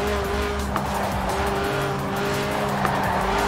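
Lotus Elise with a 1.8-litre engine revving high while drifting in the Forza Horizon 4 racing game, a steady engine drone with tires squealing continuously and loudly throughout.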